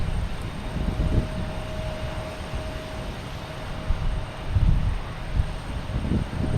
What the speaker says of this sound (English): And a JetBlue taking off